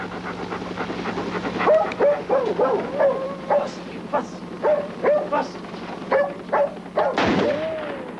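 A confused dog barks in a series of sharp, repeated yips and whines close by at a garage, the bursts irregular and mixed with panting over a low background hum.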